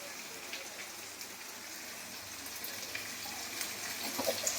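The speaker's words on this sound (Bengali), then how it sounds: "ভালো করে ভেজে নেব বেগুনটা। এখন ভালো করে ভাজতে থাকবো" Eggplant fries in a pan with salt, sugar and dried chili powder, a steady close sizzle and crackle of hot oil running throughout with no talking.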